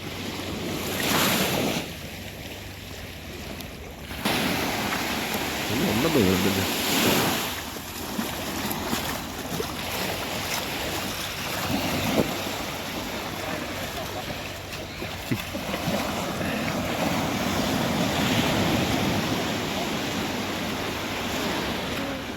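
Sea waves and surf break along a Kerala shore during cast net fishing, a continuous loud wash with periodic surges and wind noise, while voices talk intermittently over the roar.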